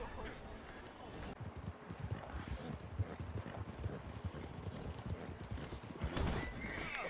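In a cowboy video game, horse hooves clip-clop in a fast, continuous rhythm and a horse whinnies loudly toward the end, while players talk over the action.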